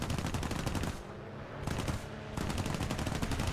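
Rapid machine gun fire from a P-38 fighter in the War Thunder flight game, dense rattling bursts in two long volleys separated by short pauses, loud and continuous over engine drone.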